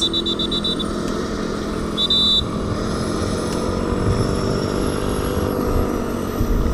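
A military helicopter warms up before takeoff at an Indonesian armed forces (TNI) parade, its engine giving a loud, steady drone with a sustained whine, heard close and without any talking.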